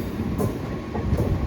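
Rajahmundry to Visakhapatnam special express train running, a steady loud rumble of carriage wheels on track with faint periodic clacks, heard from inside.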